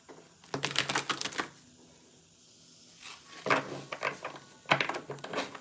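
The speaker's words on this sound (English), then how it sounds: "I've never shuffled like this before." Crisp, rapid riffling bursts of cards being shuffled, three separate rounds with short quiet pauses between them, close and fairly loud.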